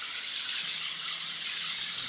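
A waterfall in West Virginia rushes as a steady, even broadband roar, continuous and fairly near, with no voices over it.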